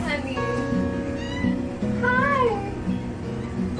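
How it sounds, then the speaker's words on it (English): Eric the cat gives a small, squeaky, high meow with a rising-and-falling pitch, heard close and fairly quiet over an ongoing speaking voice. "I love his little squeaky meow"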